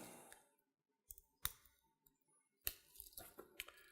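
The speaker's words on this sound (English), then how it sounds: "All right, so cut the little tape." Tape on a Nintendo 3DS XL box being cut with scissors: a few sharp snips and clicks at close range, separated by quiet gaps, followed by a denser run of crinkly handling noises.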